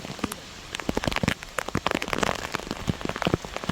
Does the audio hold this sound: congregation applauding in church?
no